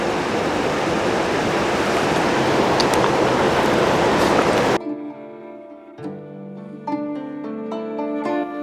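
A mountain stream flows beside the trekking trail to Madhyamaheshwar, a loud, steady rush of water heard up close for about five seconds before music abruptly takes over.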